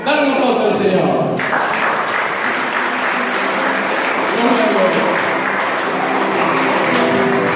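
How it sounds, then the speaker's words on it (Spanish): A church congregation breaks into sustained applause during a sermon, a loud, continuous wash of clapping with voices mixed in near the start. "Dale un aplauso al Señor."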